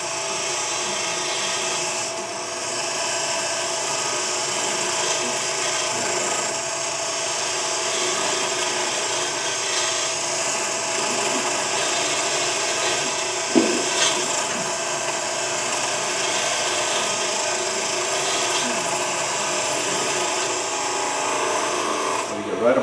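Small wooden cutoff being grooved by hand, a steady dry rasping and rubbing that runs continuously at close range, with one brief sharper knock partway through.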